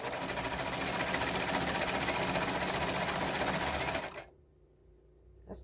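A vintage 306 sewing machine runs a stitch with a loud, continuous mechanical whir and rattle for about four seconds, then stops abruptly, leaving near silence.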